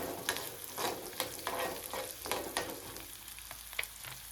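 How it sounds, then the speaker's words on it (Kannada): Curry leaves fry in hot oil for a churumuri tempering, a steady close sizzle broken by repeated stirring scrapes and crackling bursts, with no voices. "ಕರಿಬೇವು ಹಾಕೋತೀನಿ ರೀ. ಎಲ್ಲ ಚೆನ್ನಾಗಿ ಎಣ್ಣೆಯಲ್ಲಿ ಬೇಯಕ್ಕೆ ಬಿಡಬೇಕು."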